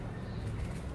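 Pigeons at a bird seller's coop give soft, low cooing against a faint, steady background murmur, close but quiet.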